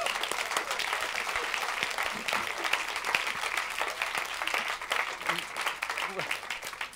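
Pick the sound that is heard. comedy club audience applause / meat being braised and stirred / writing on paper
comedy club audience applause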